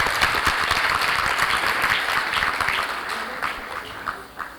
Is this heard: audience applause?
yes